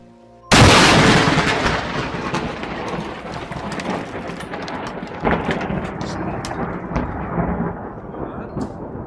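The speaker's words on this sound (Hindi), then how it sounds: "वहां जोरदार कड़क के साथ बिजली गिरी" A sudden, violent thunder crack explodes close by, then rolls and rumbles on for several seconds with a crackling, booming tail, amid rain.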